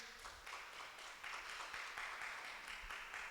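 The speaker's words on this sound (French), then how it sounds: "Ça s'applaudit." Applause at a contest finale, a faint, dense wash of many hands clapping that swells slightly partway through, distant and steady.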